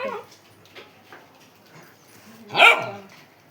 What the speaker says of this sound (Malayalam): ഇനി അടുത്ത് ഇവിടുത്തെ പട്ടിമോനാണ്.